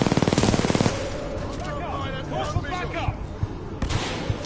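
Rapid automatic gunfire in Titanfall 2, a loud burst of closely spaced shots up front, followed by scattered single shots and impacts under a player's excited talking.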